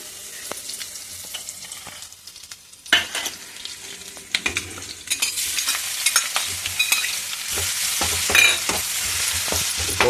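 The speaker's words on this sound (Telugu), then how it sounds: "పోపు వేస్తానండి" Spices for tempering hit hot oil for tomato and red chilli roti pachadi, starting quiet with faint stirring, then erupting into a loud crackling, popping sizzle that keeps building, with sharp spatters and clinks of the pan close up.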